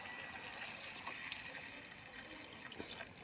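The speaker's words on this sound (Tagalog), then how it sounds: "pwede nang lalagyan ng tubig." Water is poured into a pot of cooking vegetables as a faint, steady stream with a soft hiss and light splashing that runs throughout, with no one talking.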